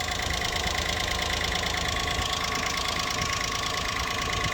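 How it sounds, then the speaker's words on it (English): Honda Acty mini truck engine idling steadily just after starting, a continuous close mechanical rumble with a faint knocking texture and no talk over it. "You hit the key now. She fires right up."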